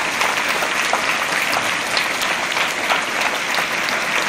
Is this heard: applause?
yes